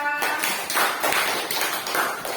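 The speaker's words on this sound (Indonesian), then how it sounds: "Aplaus untuk kelompok 2" Applause for a student group in a school classroom session, a dense patter of many hands clapping steadily at moderate loudness and close by, with no voices over it.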